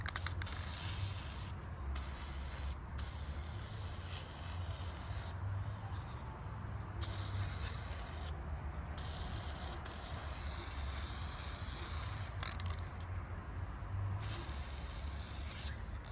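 Oil sprays onto the inside of a new Pro Design intake air filter for an LTZ 400 ATV, producing a steady, quiet hiss with brief breaks and faint handling sounds.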